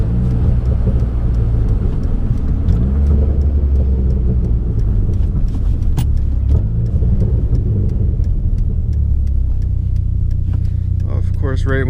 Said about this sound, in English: These downshifts though.